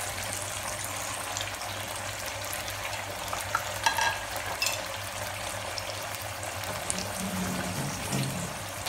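Tofu pieces frying in hot oil in a pan, a steady loud sizzle running throughout with light stirring noises and no talking.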